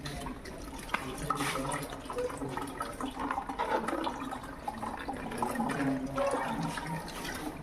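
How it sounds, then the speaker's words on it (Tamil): Water from a tank rushes through a toilet-cleaning machine, a steady close hiss and gurgle of flushing flow that carries on unbroken and fairly faint, with no talk. "டேங்க்லேருந்து வர தண்ணியை திறந்து விட்றேன்."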